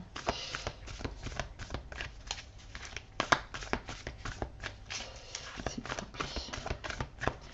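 A deck of oracle cards is shuffled by hand in quick, rapid riffles and flicks, a steady papery rattle close by with no talk.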